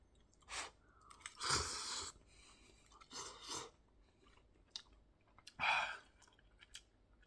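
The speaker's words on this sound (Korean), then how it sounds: "그냥 이렇게 라면을 먹는 거예요." Ramen noodles being chewed and eaten, soft wet chewing and slurping in a few separate bursts with quiet gaps between, close and faint, no talking.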